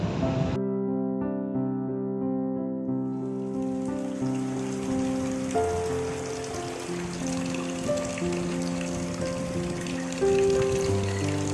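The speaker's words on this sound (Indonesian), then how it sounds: "Hujan semakin lebat." Heavy rain falls in a stage drama scene, a steady dense hiss that swells in after a few seconds and continues under sustained, layered music.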